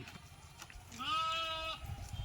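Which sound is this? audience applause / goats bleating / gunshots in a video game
goats bleating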